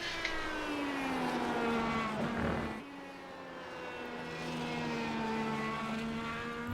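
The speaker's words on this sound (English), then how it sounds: "I'm listening to the engine." Open-wheel IR18 race car engine in an iRacing sim race, a steady high engine whine with harmonic sweeps rising and falling as the driver short shifts, dipping briefly mid-run before climbing again, loud and continuous with no talk.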